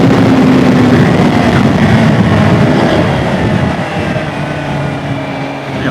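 Suzuki GSR 750 motorcycle with a new exhaust, riding along with a steady, loud engine drone and wind rush that eases slightly toward the end, no voices.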